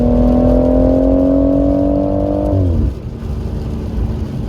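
A BMW M140i accelerating hard, its engine note rising steadily and loudly for a few seconds before a gear change drops the pitch, then continuing as a rougher, lower drone.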